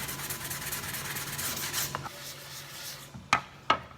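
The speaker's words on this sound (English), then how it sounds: "That's the reason I use the sandpaper, because it sands" Sandpaper rubs steadily over a surface being prepped for paint, a soft continuous gritty hiss that fades out. Two sharp clicks follow near the end.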